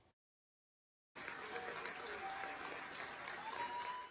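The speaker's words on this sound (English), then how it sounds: "A hearty round of applause greets U.S. firefighters as they arrive in Sydney" A hearty round of applause greets U.S. firefighters arriving in Sydney, bursting in after a short silence as a dense, continuous crowd clapping that holds steady to the end.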